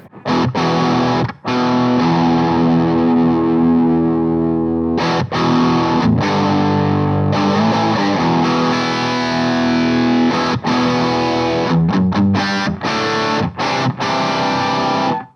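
Heavy distorted electric guitar chugs loudly through thick palm-muted riffs and ringing chords, with abrupt stops between bursts.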